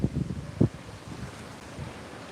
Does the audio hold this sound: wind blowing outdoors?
yes